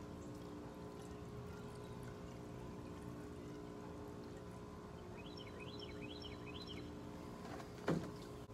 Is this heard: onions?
no